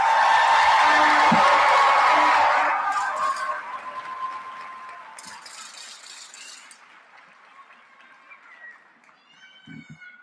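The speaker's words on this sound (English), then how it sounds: "Please give them a big round of applause." An audience applauds an eighth-grade graduating class at a middle school celebration, with loud clapping and some cheering that fade out after a few seconds into a quiet room with light rustling.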